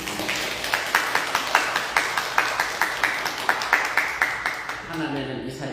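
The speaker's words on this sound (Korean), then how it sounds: "따뜻하게 박수로 환영해 주십니다" A church congregation at a Sunday service claps warmly to welcome a newcomer, a short burst of rhythmic, close applause that fades out after a few seconds.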